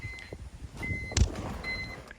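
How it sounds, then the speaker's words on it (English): Key-in-ignition warning chime inside a BMW E46 with a turbo S52 engine: three short, thin electronic beeps spaced about half a second apart, faint against a windy outdoor background rumble. "you hear the key in the ignition beep on the E46"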